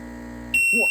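A timer goes off at the end of a resin project countdown with a sudden loud, steady high electronic beep. It sounds alone after a quiet hum and is joined by brief exclamations.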